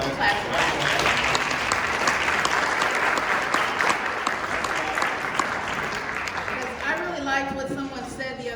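Loud, close crowd applause at a council meeting, dense and continuous, tapering as a voice begins talking near the end.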